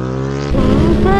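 A 2022 Yamaha MT-07 engine holds a steady drone, then its Akrapovic carbon fiber full racing exhaust jumps to a louder, rougher rev, loud and close.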